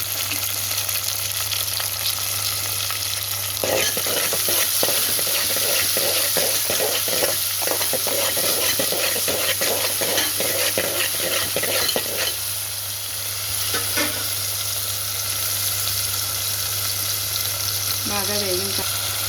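Chopped tomatoes frying with fried onions and ginger-garlic paste in a pan for a goat dabba curry with brinjal, a steady loud sizzle broken by repeated scraping stirs of a spoon against the pan.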